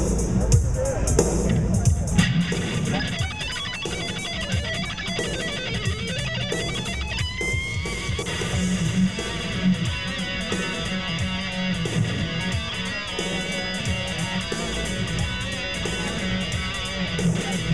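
An electric guitar played through a Boss ME-25 multi-effects unit runs through a range of amp models and effects, giving a dense, continuous, loud stream of processed tone amid the background noise of a busy NAMM trade-show floor.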